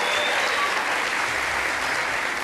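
A studio audience at a Brazilian television program applauds, a dense, steady wash of clapping from many hands that holds evenly for the whole stretch.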